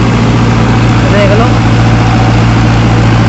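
An Arjun Novo tractor runs steadily at around 1700–1750 RPM, driving a VS Punni multicrop thresher during the wheat harvest, making a loud, continuous engine and machinery drone throughout. Voices talk briefly over it.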